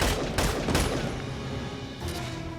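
Rapid gunfire from the video game Valkyria Chronicles 4, a dense, loud fusillade of overlapping shots filling the first second, then a sustained rumbling tail with another burst near the end.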